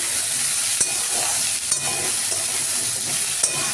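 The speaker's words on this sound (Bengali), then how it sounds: "কড়াই তেল দিয়ে 5 ফোড়ন দিলাম" Five-spice seeds are tempered in hot oil in a wok, giving a loud continuous crackling sizzle with a few sharp pops and utensil scrapes along the way.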